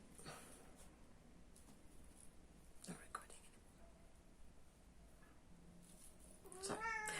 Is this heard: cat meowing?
yes